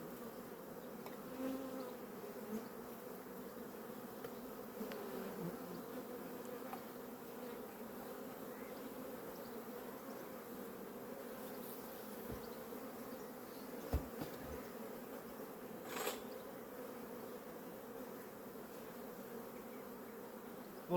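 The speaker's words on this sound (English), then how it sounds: "A lot of bees." Bees hum as a steady, close drone around an open, expanding beehive during frame additions, a continuous buzzing with a few faint knocks and handling sounds and no voices.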